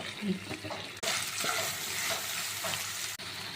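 Prawns sizzle in a pan over a medium flame, a loud, close, continuous frying hiss broken by brief stirring and pan sounds, with two short gaps where the sound drops out.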